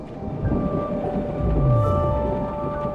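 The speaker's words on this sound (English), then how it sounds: "The sound of the loud thunder jerks you out of your slumber." Loud rumbling thunder in the video game Rue Vall, a low roll that swells through the middle and fades, steady under a faint tonal background with no talk.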